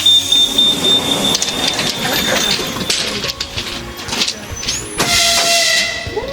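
An electric suburban train arrives at a station in Beloretsky District, Bashkortostan, with a loud steady rumble and hiss, with high metallic squeals from the brakes as it slows.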